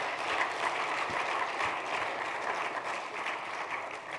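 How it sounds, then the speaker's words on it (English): A crowd at a business seminar claps steadily, a dense, even wash of applause that holds at the same level throughout. "Can we give him another round of applause?"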